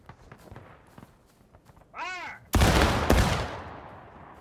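A massed musket volley erupts in the Civil War game War of Rights, a loud close crash of many rifles firing almost together and rolling out, after faint footsteps and a short tonal warble.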